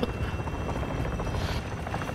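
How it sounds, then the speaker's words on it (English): Steady, loud rotor drone of a helicopter overhead in Call of Duty Modern Warfare 2 DMZ, a continuous thumping whir with no voices over it. "What's with these choppers, man?"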